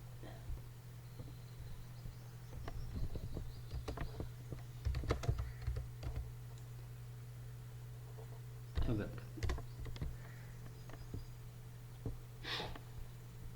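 Computer keyboard keys clatter in short scattered bursts while someone searches for popular programming languages, soft clicks coming in uneven clusters at close range over a steady low hum, with quiet breathing.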